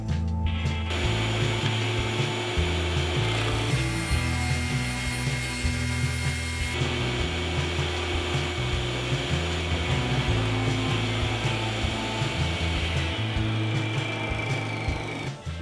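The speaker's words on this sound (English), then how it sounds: "And more sanding." Wooden shelf pieces for a PC speaker stand being sanded with a power sander, a steady loud droning whir with a shifting buzzy tone that runs continuously throughout, with no voices over it.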